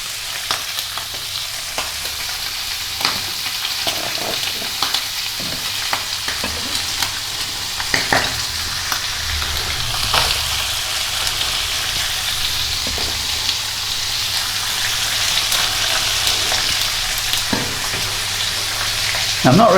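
Onions and red wine sizzling in a pan for baked beans, a steady, continuous frying hiss with occasional scraping and clicking from stirring, holding level for about twenty seconds and swelling slightly at the end.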